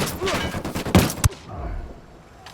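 Bursts of gunfire in the Ghost Recon Wildlands video game, a loud rapid volley of shots ending in two sharp close cracks, followed by quieter background noise.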